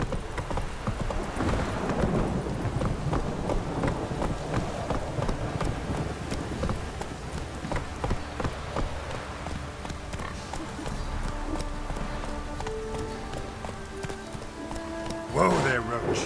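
A horse galloping in the video game The Witcher 3, a steady rapid clip-clop of hooves that slows toward the end, with voices talking over it.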